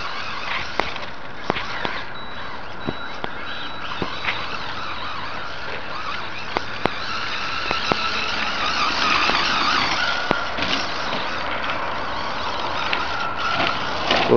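A dirt bike motor on a dirt track with jumps, its engine droning steadily from a distance and rising slightly toward the end, with a few sharp clicks and bumps over it.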